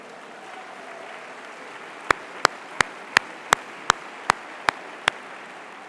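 Applause from a Parti socialiste gathering after a first-secretary vote result, a steady wash of distant clapping with nine loud, evenly spaced claps close by in its second half.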